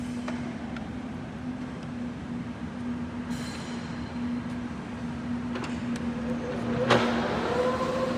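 An OMP Prealpine lathe from Italy, built for 3000 mm workpieces, runs at its maximum spindle speed of 800 rpm, giving a steady, even mechanical hum with a constant tone and a few brief clicks near the end.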